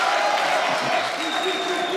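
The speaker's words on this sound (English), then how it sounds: "Crowd calling for action here." Arena crowd at a Polaris grappling event producing a steady, loud roar of voices and cheering, calling out continuously for action, with individual shouts rising from the dense din throughout.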